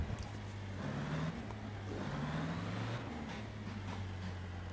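A car engine drones low and steady in a racing video game as the vehicle climbs through mud, with a hum that wavers slightly in pitch. The sound is faint and muffled under a noisy background.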